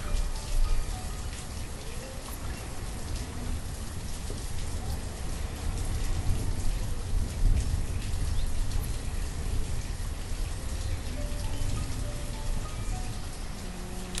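Steady rain pours down continuously in the video game Banished, a dense hiss of falling drops with faint low rumbling underneath and no voices.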